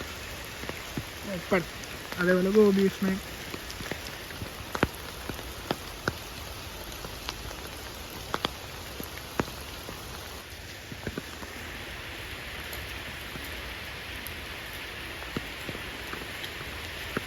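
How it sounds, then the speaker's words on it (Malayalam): Heavy rain pours steadily at an elephant camp, a dense, even patter of drops with scattered sharper hits on nearby surfaces, and someone speaks briefly near the start. "നല്ല മഴയത്താ"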